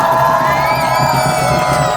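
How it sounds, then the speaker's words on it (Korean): A large crowd at a candlelight rally in Sejong cheers and whoops steadily throughout, loud and close, with no single voice standing out. "자, 여러분 박수 한번 크게 보내주십시오."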